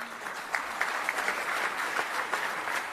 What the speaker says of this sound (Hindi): ताली बजा दो एक बार सब।